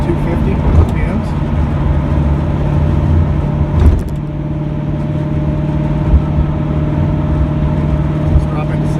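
A 1978 Trans Am with a Tremec Magnum 6-speed and 3.23 rear axle cruises at about 2250 RPM, its engine a steady, loud low drone with road rumble, someone talking over it throughout.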